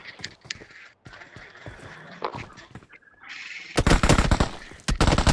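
Rapid bursts of automatic gunfire and single shots from the video game PUBG at Pochinki, loud and dense, heaviest toward the end, with in-game clatter between volleys and no clear talking.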